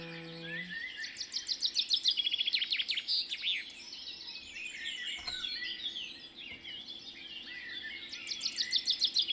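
Recorded birdsong played back quietly as background in a live stream: repeated bright chirps and trilling phrases in bursts, faint and continuous, with no talking.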